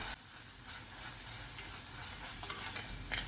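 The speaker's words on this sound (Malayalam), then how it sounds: "ഒരു ചെറിയ കഷ്ണം ഇഞ്ചി, 3 വെളുത്തുള്ളി എന്നിവ ചതച്ചത് ഇട്ട് ഒരു മീഡിയം ബ്രൗൺ നിറം ആകുന്നത് വരെ വഴറ്റാം" Crushed ginger and garlic sautéing in a pan, a steady soft sizzle with faint stirring scrapes throughout, no voices.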